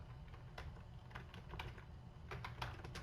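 Continuous typing on a computer keyboard while taking notes on presentation slides, a steady run of close, soft key clicks with a few louder taps, no voices.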